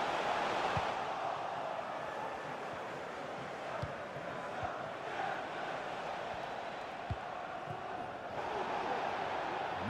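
Stadium crowd noise from an FC 24 Premier League match between Newcastle United and Manchester United, a steady distant roar of cheering that swells at the start and end, with no commentary over it.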